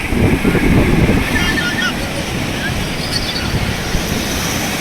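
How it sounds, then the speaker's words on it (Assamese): Sea waves rumble and wash onto the shore in Goa, with wind buffeting the microphone throughout. "আপোনালোকক সাগৰৰ ঢৌ কি ধুনীয়াকৈ আহে"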